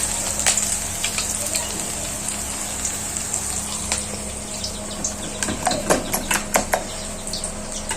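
Chili bajji fritters in wheat-flour batter fry in hot oil with a dense, steady sizzle and crackle close by, a few sharper pops rising toward the end over a low background hum.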